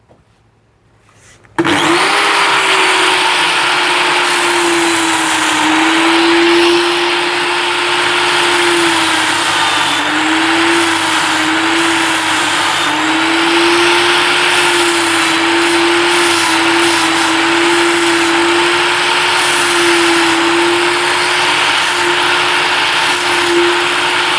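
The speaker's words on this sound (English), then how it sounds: "sand around all the edges, not too much on the surface, but trying to sort of shape out the edges of this palm cross" A power sander works the edges of a handmade wooden palm cross, starting abruptly after a brief quiet moment and then running as a loud, steady, continuous whine with a constant tone for the rest of the clip.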